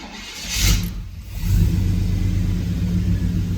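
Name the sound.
car engine starting and running, TBI fuel injection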